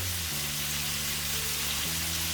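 Yogurt lands in a pan of hot fried translucent onions for a minced beef dum keema curry, setting off a loud, continuous hissing sizzle like heavy rain, with low rumbling bubbling underneath and no voices.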